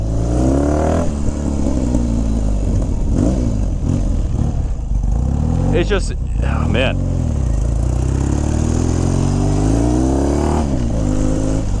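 A 1989 BMW R100G/S 980cc motorcycle engine revs through its exhaust, loud and close, in repeated rising and falling blips while someone talks over it.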